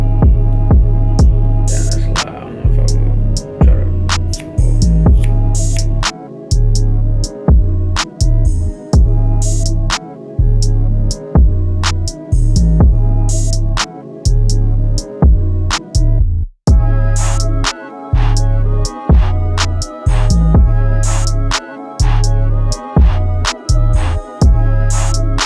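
Amazon electric hair clippers cutting hair during a self haircut, a steady low buzzing hum broken by frequent short pauses and restarts, loud and close, with no talk.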